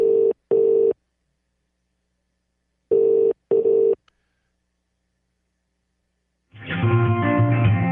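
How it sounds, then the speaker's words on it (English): An English telephone ring: two pairs of short electronic ring tones with a long pause between, followed by a click, silence, then a burst of busy background sound. "That's the English dial tone. That's English ring."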